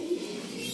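A golden cross teddy pigeon coos once, a short close coo over a faint background hum.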